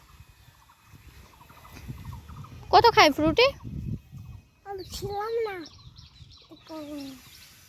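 Short bursts of chicken and fowl calls, some rapid and squawky, mixed with people talking nearby.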